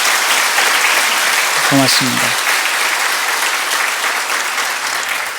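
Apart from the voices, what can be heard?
audience applause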